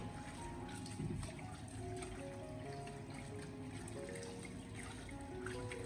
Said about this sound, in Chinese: 接下来，我们先将苦瓜进行清洗一下，将苦瓜给它清洗干净。